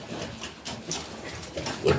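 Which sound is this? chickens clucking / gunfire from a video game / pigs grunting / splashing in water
pigs grunting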